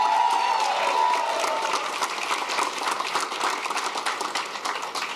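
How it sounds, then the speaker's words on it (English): Audience applause and cheering fill a political gathering after a candidate's concession speech, a dense steady wash of many hands clapping that runs loud throughout and eases slightly toward the end. "Give them a big round of applause."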